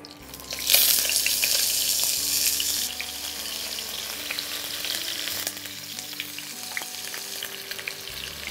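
Chunks of potato and eggplant hit hot oil in a pan with a loud burst of frying that settles into a steady crackling sizzle, punctuated by occasional clinks and stirring scrapes.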